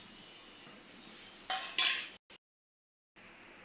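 Fried chickpeas and fried peanuts are tipped into a grinder jar, making a short, close rattling pour of hard pieces against the container that lasts under a second and then cuts to silence.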